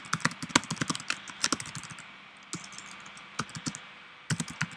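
Bursts of rapid computer keyboard typing while entering an account name on a password reset page, clicky keystrokes in quick runs separated by short pauses, close and clear with no talk.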